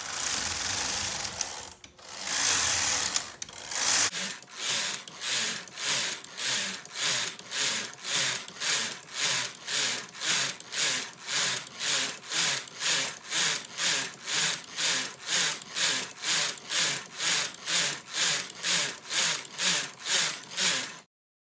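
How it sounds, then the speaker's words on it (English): A knitting machine knits a rib with a steady back-and-forth rhythm, each carriage pass a regular rasping sweep repeated many times, close and clear after a short stretch of rubbing handling noise, with no voices. "And now I'm ready to start knitting my rib."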